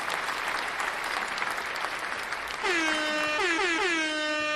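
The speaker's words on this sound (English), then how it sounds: "Give yourself a round of applause." Canned applause with an air horn played as a sound effect on a livestream, a steady wash of clapping that is joined midway by several loud, blaring horn blasts over the continuing applause.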